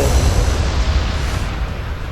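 Bombs dropped in the Modern Warships naval combat game produce a dense, continuous booming rumble, loud and heavy in the low end throughout.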